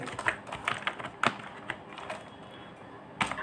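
Typing code on a computer keyboard, uneven clusters of crisp key taps and clacks close by over a faint room hiss, with no speech.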